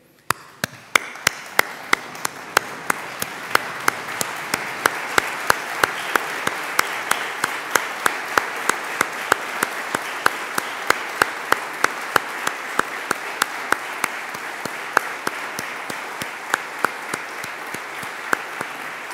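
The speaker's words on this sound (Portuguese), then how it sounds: "eu convido-vos a aplaudi-los de pé" Standing ovation in a university anniversary auditorium, honoring late colleagues: sustained steady applause from a large seated audience, with a few sharper individual claps punctuating the even wash throughout, no talk.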